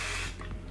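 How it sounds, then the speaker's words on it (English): Hairspray sprayed onto a ballet bun: one short close hiss of aerosol that fades after a fraction of a second. "So you spray the bun"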